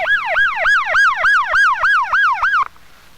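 An ambulance siren wails in a rapid repeating up-and-down sweep, loud and close, cutting off abruptly near the end.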